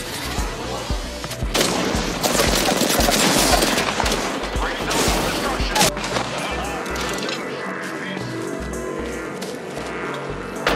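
Rapid, close gunfire fills a match of Apex Legends, with sustained automatic bursts and cracking impacts peaking in the first half, then tapering to scattered shots and deep thuds beneath a rumbling, busy game background.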